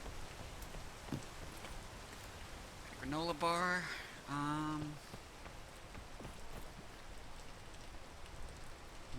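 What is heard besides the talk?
rain falling in the video game PEAK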